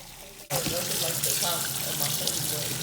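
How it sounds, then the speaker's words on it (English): Tap water runs into a kitchen sink as apples are washed under it, starting abruptly and then flowing steadily and fairly close, with a faint voice talking in the background. "The first thing I did was wash the apples to make sure that were all clean"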